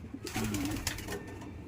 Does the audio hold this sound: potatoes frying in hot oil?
no